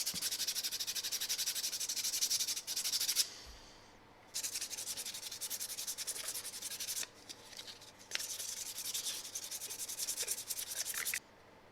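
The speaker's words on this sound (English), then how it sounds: "So now I'm just going to sand this thing down and get any imperfections out." Close, steady sandpaper rubbing on a handmade plastic jerk bait lure in long, continuous strokes. Brief pauses separate four sanding bursts, and there is no talking.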